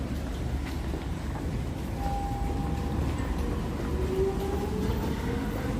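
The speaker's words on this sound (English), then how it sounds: "there's a SkyTrain coming about every 1 minute" A Vancouver SkyTrain passing at a station, a steady loud rumble of the rail car with faint tonal whine rising across the run, continuous throughout with no talk.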